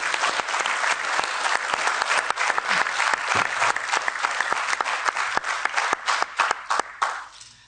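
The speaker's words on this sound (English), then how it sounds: "I just want to give those guys a round of applause for all the hard work they do." A hall audience at a European Parliament event on the Trust and Freedom citizens' initiative claps together in a loud, sustained round of applause, crisp individual claps audible throughout before it thins out and fades at the end.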